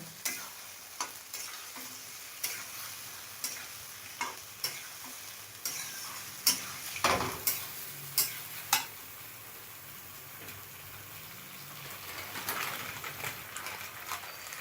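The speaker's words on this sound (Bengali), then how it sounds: "আলু সেদ্ধ করে রাখা আছে, সেগুলো দিয়ে দিচ্ছি। এবার নাড়ব।" Boiled potatoes tumble into a hot pan for dhokar dalna and get stirred, giving a steady low sizzle with a run of sharp scraping clicks and knocks from the spoon near the middle, fairly close and moderately loud, with no talking.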